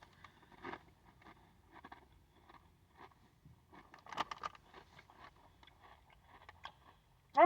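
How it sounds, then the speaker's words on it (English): Crunchy Diana jalapeño tortilla chips being chewed, faint and close, with scattered crisp bites and crunches at an irregular pace and no talking. "They got a nice crunch to them."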